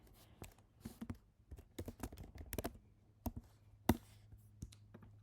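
Quiet typing on a computer keyboard, irregular bursts of light clicking keystrokes close by, with short pauses between them.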